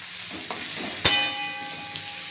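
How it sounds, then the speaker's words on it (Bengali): Prawn heads and spices frying in a pan while a Bengali pumpkin dish with prawn heads is cooked, giving a steady soft sizzle with a sharp burst of spatter midway and a brief scrape of stirring. "এই মশলা দিয়ে এটা ভাজা ভাজা হবে"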